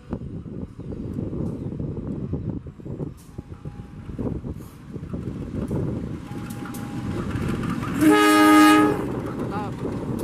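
A passenger train rumbles along the railway track with a continuous low roar, then sounds a loud, sustained horn blast near the end; faint voices can be heard beneath the rumble.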